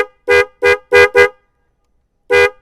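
A Denso snail horn fitted to a Yamaha Vixion motorcycle, four quick loud honks in a row, then a pause and one more honk, close by with no talk.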